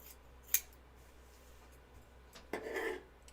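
Scissors trimming fabric sewing pieces for a flight suit: a sharp snip near the half-second mark, then a longer, louder rustling cut later, against a quiet room.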